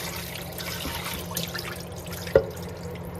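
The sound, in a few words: pouring water out of a pot of potatoes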